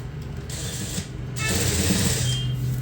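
A sewing machine stitches a folded half-inch hem along the bottom opening of a churidar, its mechanism running in a steady close whir that grows louder and busier midway, with no talking.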